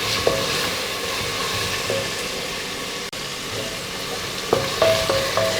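Sliced onions frying with ginger garlic paste for a pressure cooker chicken biryani, a loud, close, continuous sizzle with a few light stirring scrapes.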